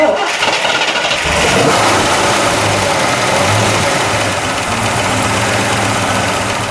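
A 1970 Chevrolet Chevelle SS convertible with a 454 LS6 V8 and four-speed starts up, then settles into a loud, steady, rumbling idle close by for several seconds.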